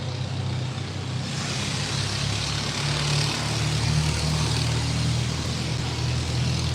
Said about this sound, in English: That's an old ass car, man.